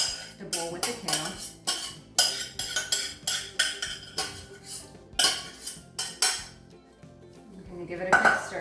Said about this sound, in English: So I'm just going to dump that right into the bowl with the kale.